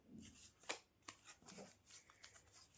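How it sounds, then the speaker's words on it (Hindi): Playing cards shuffled and drawn for a reading, a series of soft quick riffles and flicks, close and quiet, ending in a sharp snap. "फ्रेंड्स, अब हम कार्ड्स निकालते हैं।"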